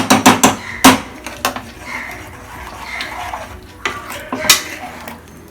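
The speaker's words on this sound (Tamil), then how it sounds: "குக்கரை மூடிடுங்க." A pressure cooker lid being closed while making sambar, a run of sharp metallic clanks and knocks at the start, then quieter handling with a few more knocks, close and fairly loud.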